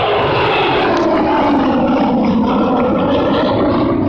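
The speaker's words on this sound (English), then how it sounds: "coming in from your left are 3 bisons in big formation led by Group Captain Rahul Shukla" Three Indian Air Force MiG-21 Bison fighter jets flying in formation over Halwara air base during a ceremonial flypast, a loud sustained roar of jet engines filling the whole stretch.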